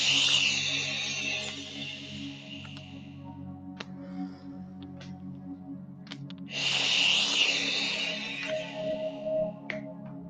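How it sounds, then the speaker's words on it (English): Long breathy exhales shaped into a hissing SH sound during a beginner breathing exercise, two sustained bursts separated by a quieter pause with faint background noise. "an easy way to kind of do that is to add an SH sound to your exhale."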